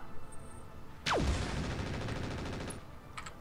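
Heavy weapons fire in the mech combat game Roguepoint: a sudden loud burst of sustained rapid gunfire with a sharp descending whine, lasting about two seconds before tapering off, with no talk.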